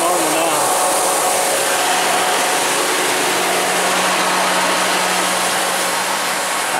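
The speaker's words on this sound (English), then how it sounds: "the cooling fan sounds normal now" A van's engine cooling fan runs at a steady, loud, unbroken whoosh with a faint low hum beneath, sustained throughout without talk.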